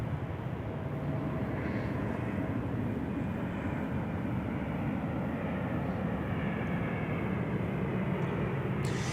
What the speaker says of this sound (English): China Airlines here, A350. Going to SeaTac.